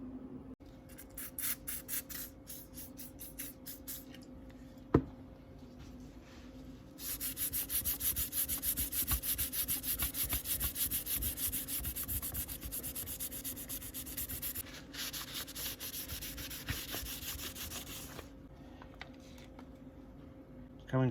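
Hand sanding a 1990 Kawasaki Ninja ZX7 frame to clear black marks and scratches: close, rhythmic back-and-forth rasping strokes, softer at first and then louder and denser for a long continuous stretch, with a brief knock partway through.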